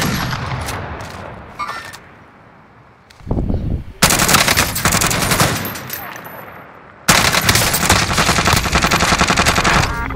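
Bursts of machine gun fire in a shooter video game, two long sustained volleys of rapid loud shots with a short quieter pause and scattered shots between them.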